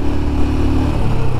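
A Royal Enfield Himalayan motorcycle climbing a hill road between Srinagar and Sonmarg, its engine droning loud and steady at a constant pitch, with wind noise throughout.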